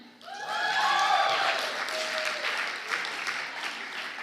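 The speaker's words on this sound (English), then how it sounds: "We can applaud for them." A crowd at a Friday night Freedom Night event applauds the Kenton County Detention Center, swelling quickly into sustained clapping with cheers and whoops mixed in.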